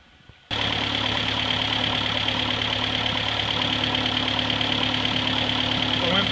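A Ford 8N tractor engine, freshly fitted with a new carburetor float after flooding, bursts into life and settles into a steady, loud, rough idle with a rapid chugging knock that continues without pause.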